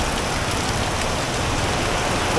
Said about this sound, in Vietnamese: lượng mưa phải gọi là dã man, mưa như thác đổ, mưa như thác đổ nha cả nhà